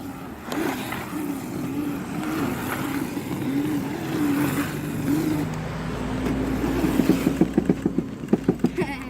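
A mini dirt bike engine revs as the bike spins donuts in the snow, its pitch wavering up and down close by before a run of sharp, rhythmic throttle blips at the end.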